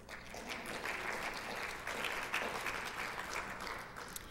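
A conference audience applauds as sponsors are recognized. The clapping is steady, moderately quiet and a little distant, continuing without a break.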